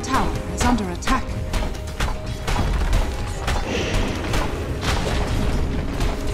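A tower collapses in the Dota 2 video game with a rumbling, crashing boom that runs on over steady game noise and a few clattering impacts.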